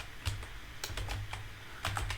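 Typing on a computer keyboard gives sharp, close key clicks in small irregular bursts, a few quick taps followed by pauses, with no speech.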